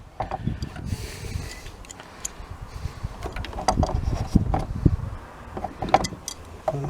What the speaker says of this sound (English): use the big shifter and use the handle of the screwdriver as if it was a nut